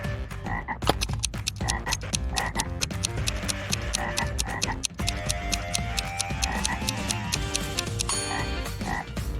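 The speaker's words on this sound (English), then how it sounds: "A frog is at the bottom of a well." A frog croaks in a dense, steady rhythmic chorus of loud, repeated clicking calls that continues without pause from start to finish.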